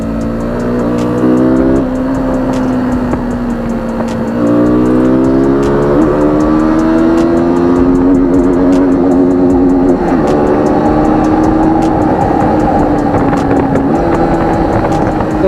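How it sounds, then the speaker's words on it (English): A KTM Duke 200 motorcycle with a slightly modified stock exhaust revs and accelerates through several gear changes. Its loud, close engine drone climbs in pitch, drops at each shift, then climbs again. "the exhaust sound is a bit different than a regular 200"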